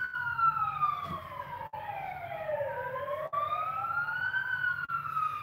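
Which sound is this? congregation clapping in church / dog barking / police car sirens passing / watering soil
police car sirens passing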